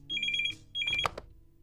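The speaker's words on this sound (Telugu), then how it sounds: "ఏంటి ఫోన్ రింగ్ అవుతుంటే ఏం ఆలోచిస్తున్నావు?" A telephone rings in a Telugu film scene: two short bursts of rapid electronic trilling separated by a brief pause, close and clear, followed by a faint knock.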